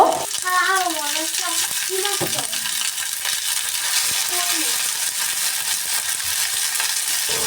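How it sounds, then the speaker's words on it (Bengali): Shredded beef fries in a pan on the stove, giving a steady, close sizzle with occasional stirring scrapes; someone speaks briefly over it near the start. "এখানে আমি ফ্রিজে থাকা সেই মাংসটা ভেজে নিব এটা ঝুরা মাংস"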